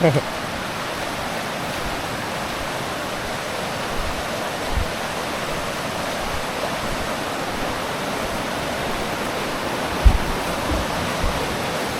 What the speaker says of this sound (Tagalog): ganda ng ilog nyo rito